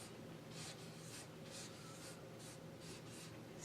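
Handwriting with a pen or marker, a series of soft scratchy strokes in an irregular rhythm, close and faint over a low steady hum.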